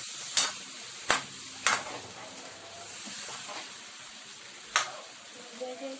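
Tomato sauce mixed with ketchup being stirred in a pan while cooking Hawaiian macaroni spaghetti, a low simmering sizzle broken by several sharp scraping spoon strokes at irregular intervals, close by.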